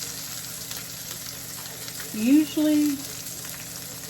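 Salmon sears in a skillet after being flipped, giving a constant close hiss of sizzling oil throughout, with a speaking voice briefly over it.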